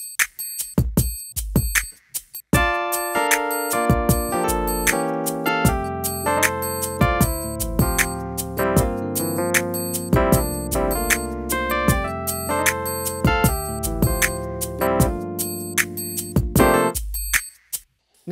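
Solo gospel piano plays the intro of a song, with rich sustained chords, a bass line and flowing right-hand runs, starting with a few scattered notes and then continuing for about fifteen seconds without talking.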